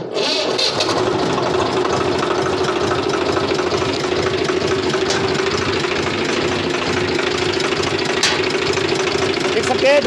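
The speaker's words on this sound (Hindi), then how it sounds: "तो मैं पहले ट्रैक्टर स्टार्ट करके दिखाता हूँ।" A Swaraj FE diesel tractor engine cranks briefly, then settles into a steady, rhythmic knocking idle that runs close and even throughout.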